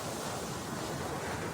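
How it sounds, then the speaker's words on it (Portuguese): Strong wind and waves batter a boat, a dense and continuous rushing roar with no voices. "o vento soprou forte e o barco era açoitado pelas ondas"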